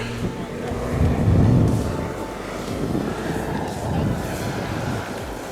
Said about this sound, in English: Got a plane coming in right over here.